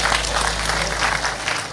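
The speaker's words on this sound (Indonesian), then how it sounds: "Tepuk tangan untuk panjenengan piyambak" Audience applause at an Islamic sermon gathering, a dense, loud wash of many hands clapping close by, sustained evenly and then cutting off at the end.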